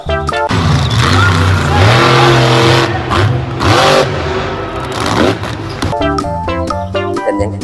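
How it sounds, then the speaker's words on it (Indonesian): A monster truck engine, likely a toy or cartoon sound, revs hard in loud rising and falling surges with a clattering, scraping edge, continuous through most of the stretch and close up. "mobil truk monster"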